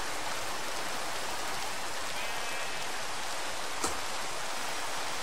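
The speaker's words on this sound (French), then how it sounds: "Lui, la pluie." Steady, dense rainfall in Minecraft hissing evenly throughout, a constant wash of drops with no voices, broken only by one brief click near the end.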